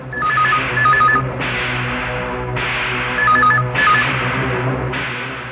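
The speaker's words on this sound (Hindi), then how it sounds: "अंबानी, फोन उठा, मैं इधर से सुनता हूं।" A telephone rings repeatedly in electronic trilling bursts over a low background hum, loud and close.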